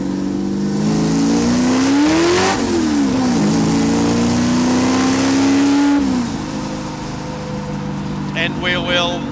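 A Ford Falcon car engine revs up and down loudly and up close, pitch rising and falling, then settles into a steadier drone as the car drives off and fades somewhat.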